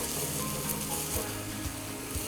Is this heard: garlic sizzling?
yes